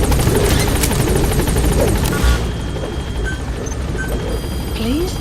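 Helicopter rotor chop from the Metal Gear Solid V video game, a support chopper arriving at a landing zone, loud and steady throughout under a radio-style voice, with game sound effects layered on top.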